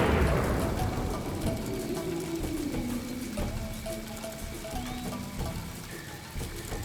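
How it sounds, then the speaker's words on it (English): Rain patters steadily in the video game Dinotopia: The Sunstone Odyssey, a dense hiss of drops with a low rumble fading at the start and faint tonal ambience underneath. "how good is that rain?"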